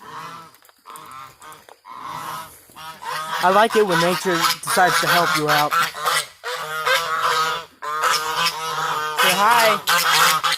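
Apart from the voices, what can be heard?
farm birds calling at feeding time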